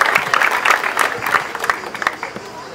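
Audience applause at a poetry reading protesting reduced opening hours at the Regional Library, lively uneven clapping from a nearby crowd that gradually thins out.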